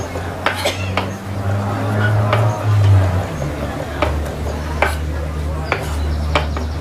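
Chopped shallots and garlic stirred in a pan, with clinks and scrapes of a utensil against the metal, several sharp taps spread through, over a low steady hum from the stove.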